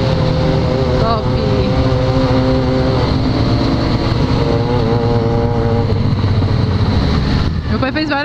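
A Suzuki SRAD 750 sport motorcycle in blue Lucky Strike livery roars close by at high revs, its engine holding a loud, steady, buzzing drone with gear shifts and rising tones, then dipping briefly before revving again near the end.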